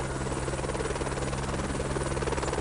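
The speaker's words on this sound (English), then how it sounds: "The Messerschmitt Bülkow Blohm BO-105 is a light twin-engine multi-purpose helicopter" Light twin-engine MBB BO-105 helicopter at an air show, its rotor and turbine roar loud and steady with a constant whine and a rapid pulsing beat throughout.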